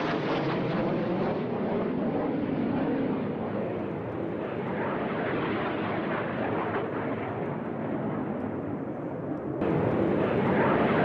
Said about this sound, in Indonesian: Sebuah pesawat jet terdengar mendesau keras lewat di atas bangunan apartemen